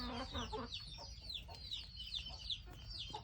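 Several chickens cluck and chatter continuously nearby among ducks on a Thai farm, with overlapping calls against a faint outdoor background.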